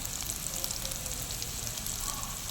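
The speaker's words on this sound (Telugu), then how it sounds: "ఈ విధంగా ఫ్రై అవ్వాలి ఫ్రెండ్స్" Pepper chicken sizzles in a pan on the stove, a steady close hiss of frying with no talk.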